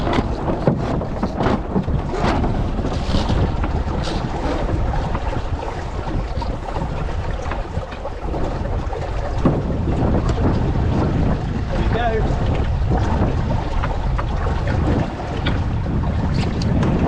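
A sailboat runs under jib alone on a lake toward Llangower, with loud gusting wind buffeting the microphone, water rushing along the hull and occasional thumps.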